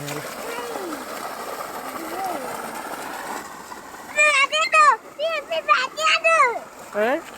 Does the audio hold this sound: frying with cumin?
no